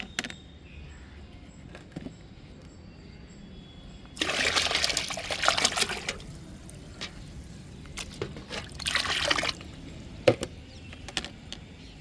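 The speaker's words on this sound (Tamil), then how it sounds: "இங்கே நான் பத்து லிட்டர் தண்ணி வச்சுருக்கேன் இதில் இந்த கரைசலை நம்ம ஊற்றிடலாம்" Fermented mustard solution is poured into ten liters of water, making two bursts of splashing, gurgling liquid over a quiet background with scattered small clatters.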